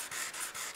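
A sanding block with 150 grit sandpaper rubs back and forth across varnished wood in quick, rhythmic strokes, about four soft raspy passes, close and quiet.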